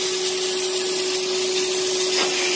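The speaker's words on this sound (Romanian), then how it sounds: "Acest aspirator este dedicat exclusiv de tehnicul interior auto" Professional Karcher Puzzi 10/1 injection-extraction vacuum working over car seat upholstery, a loud, continuous airy suction roar with a steady high motor whine, close up and unbroken.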